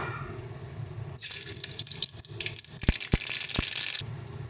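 Mustard seeds and dried red chilies hit hot oil in a pan, setting off a sudden loud crackling sizzle with sharp pops, close by and with no talk.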